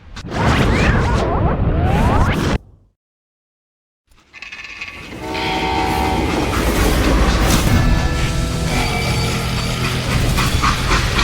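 Video game freight train from Call of Juarez: Gunslinger, loud rumbling with rattling wagons and metallic screeching, cut by a brief silence, then a steady roaring run resumes.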